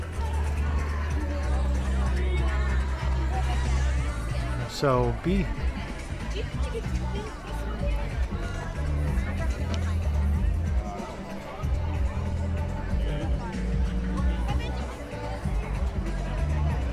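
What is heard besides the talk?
crowd chatter around a sand sculptor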